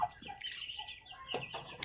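A free-range village hen in a coop, about to lay eggs again, gives a few short, nearby clucks and squawks in an uneven rhythm, faint to moderate, with no talking.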